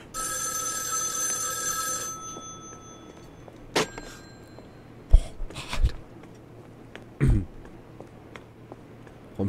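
A telephone rings in the Joe's Diner PS4 game, a steady bright electronic trill for about two seconds that then stops, followed by scattered thuds and brief bursts of in-game noise.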